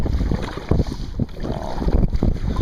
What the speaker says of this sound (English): Not really paddling too hard, just a nice, good pace. I'm moving right along. Like I say, I'm heading right into the wind.